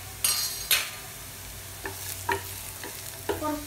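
Onions frying in a pan with turmeric powder, a steady close sizzle broken by several scraping stirs of a utensil, with no voices.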